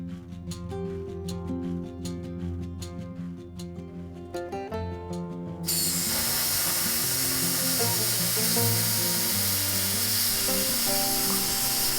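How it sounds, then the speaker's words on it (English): Plasma cutter slicing through half-inch steel plate while fabricating a backhoe grapple for a Kubota BX tractor, a steady loud hiss and roar that starts abruptly and holds continuously, following a stretch of tonal background sound. "using a plasma cutter is so much easier than using a grinder or a bandsaw to cut the metal there"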